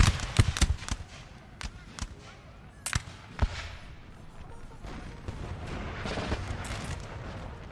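Artillery fire in a war video game arrives as scattered sharp booms and cracks, some close and loud, others softer and distant, over a busy rumbling battle backdrop with a voice talking.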